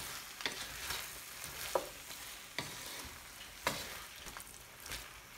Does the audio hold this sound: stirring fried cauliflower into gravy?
yes